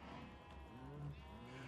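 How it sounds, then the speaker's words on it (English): Cows in the Minecraft video game low softly, with several drawn-out moos that sit under quiet game ambience and carry no talk. "Hello, cows."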